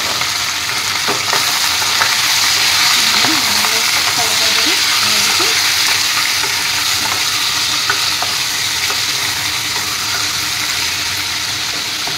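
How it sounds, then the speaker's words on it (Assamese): Cloves, cardamom and cinnamon fry in about 100 grams of hot oil in a wok, producing a loud, even, continuous sizzle with occasional light spatula clicks over twelve seconds. "তেলখিনি গৰম হৈছে ইয়াতে এতিয়া মই লং ইলাচি আৰু দালচিনি কেইটা দি দিছোঁ"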